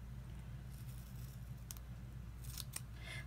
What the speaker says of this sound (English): The scissors I'm using are by EK Success.